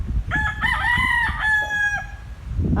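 A young fighting cock raised for cockfighting crows in a coop, one long loud close call with a rising, sustained tone, followed by brief farmyard noise.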